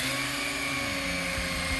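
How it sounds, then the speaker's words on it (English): A steady, high-pitched electric motor whine with buzzing, constant and close, as an electric knife cuts foam for cushions. "the best way to do it is to get a electric knife"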